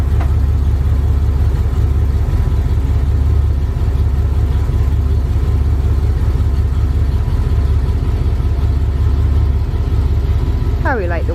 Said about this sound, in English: Let's just listen to the sound of the 66 Ford F250 352 original motor, 2-barrel carburetor.